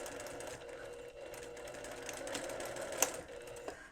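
A sewing machine stitches a fabric hand warmer insert with elastic, a quiet, steady mechanical whir with fast needle chatter heard close up, ending with a couple of small clicks as the stitching stops.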